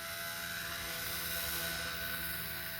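An XK K110S Falcon 3D micro RC helicopter idles nearby with a steady, high-pitched motor whine and faint rotor whir, holding an even level throughout.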